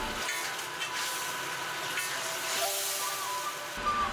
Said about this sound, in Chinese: 锅中水开了就开小火